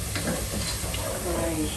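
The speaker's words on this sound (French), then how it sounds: "Maintenant, je mets les champignons que j'ai égouttés, rincés et égouttés." Drained, rinsed mushrooms sauté in a hot pan with a steady soft sizzle and brief stirring scrapes, fairly quiet and close.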